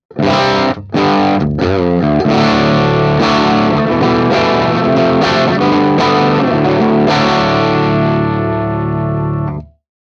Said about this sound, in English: This is no compression, no PEQ, no reverb, just the Matchbox D30 and the cab completely dry.